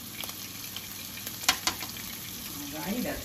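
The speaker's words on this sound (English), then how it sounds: "Caroline's letting you hear that sizzle." Cornstarch-dredged shrimp fry in hot oil, giving a steady close crackling sizzle with scattered sharp pops, and a voice begins speaking near the end.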